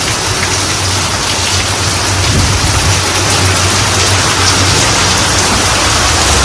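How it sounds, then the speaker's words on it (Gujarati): A torrential monsoon downpour pounds surfaces in a steady, loud roar of rain with low rumbling thunder beneath, continuous throughout with no voices. "એવો વરસાદ થયો છે ખરેખર આની ધોધમાર કહેવાય જો"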